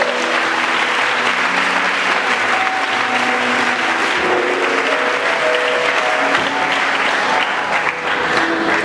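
A church congregation applauds at a worship service, a loud, dense and continuous round of clapping lasting throughout, with faint voices and tones mixed in beneath.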